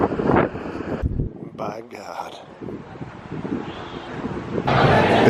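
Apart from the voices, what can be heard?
strong wind outdoors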